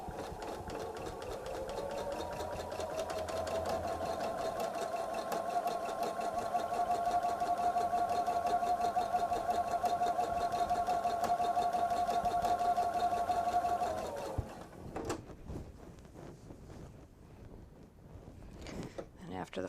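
A sewing machine stitching quilt pieces runs in a steady, fast mechanical whir for about fourteen seconds, close and constant, then stops and leaves faint clicks and handling noises.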